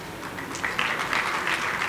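Applause from an audience at a university ceremony as a professor is thanked and honoured, a steady, moderately loud wash of clapping that holds evenly throughout.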